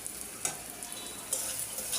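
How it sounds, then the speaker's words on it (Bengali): Dried fish sautés in a pan with green chili, turmeric, chili and coriander, giving a steady close hiss of frying with a few soft stirring scrapes, no one speaking. "কাঁচামরিচ, হলুদ, মরিচ, ধনিয়া দিয়ে এখন আমি এটা কষায় নেব একটু"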